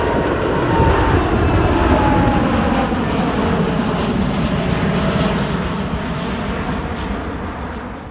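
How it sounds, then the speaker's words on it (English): An EgyptAir Boeing 787 bound for Cairo passes near Heathrow with a loud, steady jet roar that eases slightly as it moves away. "Egypt Airs 787 national going to Cairo."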